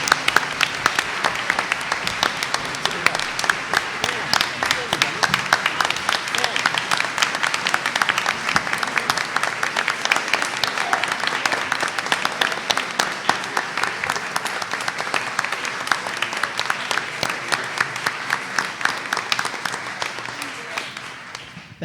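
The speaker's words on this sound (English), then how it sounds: "Let's give another final big round of applause for everyone" An audience at a board meeting applauds retirees and teachers in a long, even burst of clapping that holds steady for about twenty seconds before thinning out at the end.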